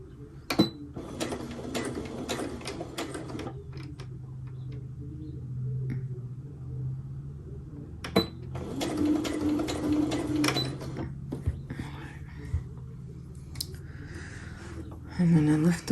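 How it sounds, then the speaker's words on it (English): Sewing machine worked slowly by its hand wheel to make a back stitch on a cross stitch bookmark, giving soft mechanical clicking and whirring runs in short bursts, with a person talking over parts of it. "I'm actually going to use the hand wheel right now for this part. And then just do a little bit of the back stitch."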